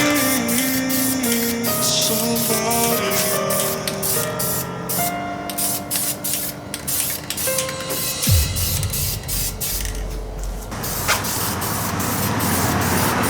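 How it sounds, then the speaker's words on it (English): Long, loud hissing spray of wax and grease remover in a car engine bay, nearly continuous with brief pulses and a shift in tone partway through, close to the nozzle. "first I'm gonna wipe it down with some wax and grease remover"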